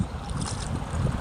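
Rowing boat moving through a marsh full of water lilies, a close, continuous rush of water and wind buffeting with low rumbling throughout a brief moment.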